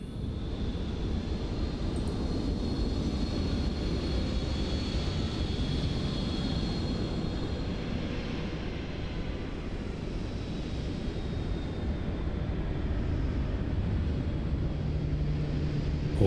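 A PMDG 777-300ER jet in a flight simulator gives a steady, unbroken engine roar with a faint high whine over a broad low rumble, constant and fairly loud for the whole stretch.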